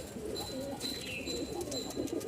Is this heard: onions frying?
no